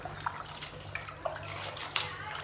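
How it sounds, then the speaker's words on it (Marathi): Potato chip slices are washed by hand in a bowl of water. Close splashing and sloshing comes in several brief bursts over a low steady hum. "हे आपले सर्व चिप्स आहे मी स्वच्छ 2-3 पाण्याने धुवून घेणार आहे"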